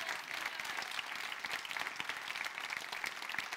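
A church congregation applauding together, steady sustained clapping from many hands filling a large room, moderately distant and continuous throughout.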